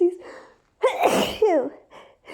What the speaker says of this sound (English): Like, I have to sneeze.